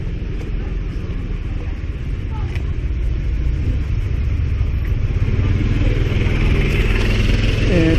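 Busy main-road traffic in Chiang Mai, Thailand, with cars and motorcycles passing in a steady, loud rumble of engines that continues throughout, with no break in the flow.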